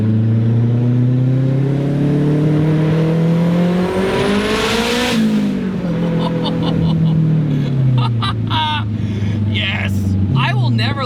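A 500HP all-wheel-drive Acura Integra accelerates hard, its engine roaring up through the revs close by with a rising pitch, then dropping as it shifts and climbs again, loud and continuous.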